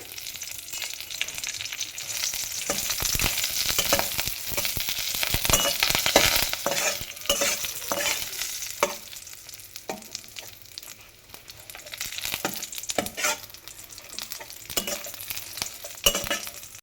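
Curry leaves crackling and frying in oil in a pan for a roasted-gram chutney powder, a busy sizzle broken by repeated scraping stirs and crunchy rustling throughout, close and fairly loud.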